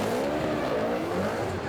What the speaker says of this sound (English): Just listen to that NASCAR motor bark